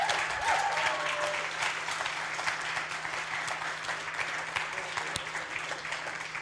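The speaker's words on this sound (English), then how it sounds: "give a big round of applause for the whole group" A crowd claps loudly and steadily, a dense wash of applause that holds throughout with little change in intensity.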